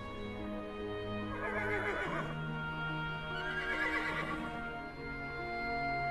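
A horse whinnies twice in long, quavering neighs, close and clear over a steady bed of sustained music.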